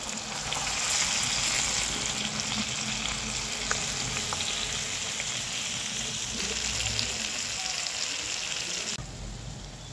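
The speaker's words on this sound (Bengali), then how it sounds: "এখন আমি টমেটোগুলো দিয়ে দিচ্ছি। এখানে সামান্য কয়েক টুকরা রসুনও দিয়ে দিচ্ছি। উল্টিয়ে পাল্টিয়ে সুন্দরভাবে ভেজে নেব।" Tomatoes and a few pieces of garlic fry in hot oil for tomato bharta, sending up a continuous, even sizzle with occasional crackles and no talking.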